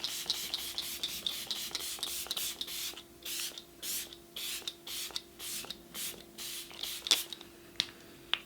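A pump mist bottle of setting spray sprayed toward a face, a series of short hissing bursts, quick at first and then spaced about half a second apart, close and fairly quiet, with no talking.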